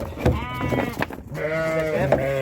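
Cheviot ewes bleat repeatedly at close range, brought in with rams and lambs for footbathing and a health check, each call a drawn-out, wavering cry following one another.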